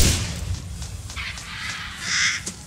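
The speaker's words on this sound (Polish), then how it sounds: "O, mamy wronę, patrzcie." A crow in the video game Resident Evil Village caws a few times in harsh bursts, moderately loud against a low ambient rumble, with the strongest call near the end.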